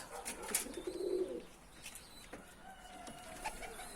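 Pigeons in a coop give soft cooing calls up close at a low level, with a louder coo near the start and scattered faint wing and movement sounds after.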